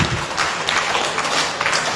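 Dense, steady applause from a crowd fills the whole stretch, a continuous wash of clapping with no voices standing out.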